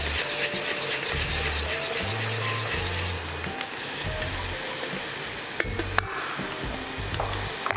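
Tilapia in spicy bean sauce is stirred counterclockwise inside a tilted Fricomix multicooker, giving a steady, dense sizzling and scraping wash over a low mechanical hum that pulses throughout.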